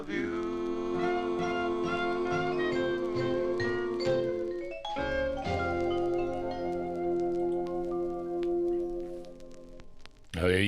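Doo-wop record from 1950, with harmonized male vocals over steady backing instruments, playing loud and continuous with a brief break near the middle and no talk over it.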